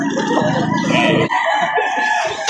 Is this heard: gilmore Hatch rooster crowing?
yes